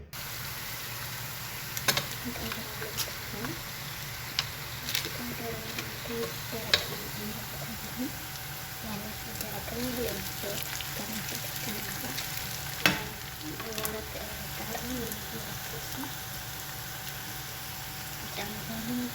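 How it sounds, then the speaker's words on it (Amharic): Sliced onions fry in a pan, a soft, steady sizzle with occasional clicks and scrapes of stirring, faint and close throughout. "ሽንኩርቴ በዚህ መልኩ እየበሰለ ነው"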